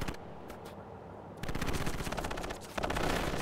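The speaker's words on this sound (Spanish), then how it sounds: "Coordenadas enviadas, barrera de artillería" An artillery barrage in the video game World in Conflict, a dense run of rapid, loud explosive bursts that turns heavier partway through and keeps up without a break.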